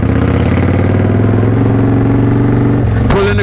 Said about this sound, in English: Pull in the clutch, go to second, give it some gas.